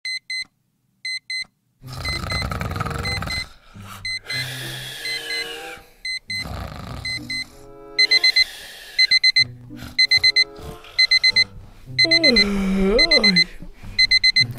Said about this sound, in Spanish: Está sonando el despertador.